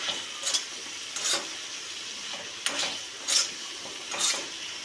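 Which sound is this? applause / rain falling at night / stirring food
stirring food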